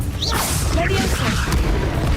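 Levioso levitation spell cast in Hogwarts Legacy: a whooshing magical swish with a booming thump and shimmering tones, mixed with faint in-game voice sounds.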